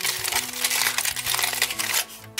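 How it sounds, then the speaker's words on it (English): Kitchen paper is crumpled by hand nearby in a quick series of crisp crinkling bursts, and it stays loud throughout with no speech. "the next thing you want to do is kind of crumple it up, make it interesting, then pull it out."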